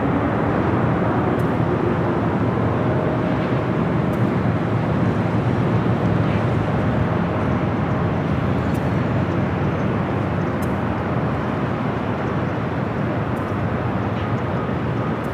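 A Polar Air Cargo Boeing 747-8 at Los Angeles airport, a continuous loud rumbling engine roar mixed with buffeting wind noise on the microphone, steady for the whole stretch with faint clicks and no talking.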